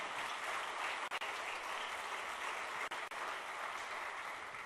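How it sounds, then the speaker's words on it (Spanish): Church congregation clapping loudly and steadily during a sermon, a dense continuous wash of applause that barely pauses, with no voices rising above it. "dele fuerte palmas al Señor, mi querido hermano y hermana"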